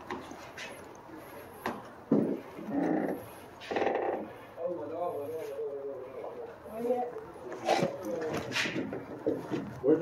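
Dog growling during an eviction with county marshals present, low rumbling growls and whimpers interleaved with several people talking, the dog fairly near and moderately loud amid the voices.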